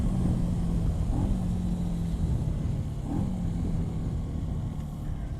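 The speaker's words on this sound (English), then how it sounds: "I'm on my earplugs right now and I can still hear the engine quite clearly, actually" A Benelli TNT 135 motorcycle engine labors uphill as a steady, droning low hum with slight rises in pitch, close and continuous, with no voices.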